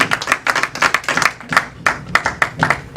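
A small group at a church gathering claps in sharp, fairly regular bursts, the individual hand claps distinct and close, with brief gaps between clusters.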